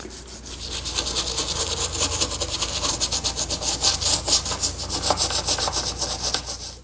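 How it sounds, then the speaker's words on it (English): A brush scrubs grime with Dawn detergent out of the turned spindles of a 1910 wooden dining chair, giving a loud, continuous rasping rub in quick back-and-forth strokes, close by with no talk. "I'll scrub this grime away with some Dawn detergent. Get these turnings all cleaned out."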